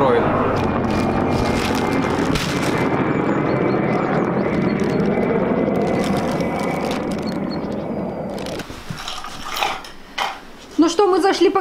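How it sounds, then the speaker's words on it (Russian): Helicopters flying over a village make a steady, broad rotor drone that holds loud for several seconds, then gives way to closer clatter and a voice near the end. "А здесь вертолеты."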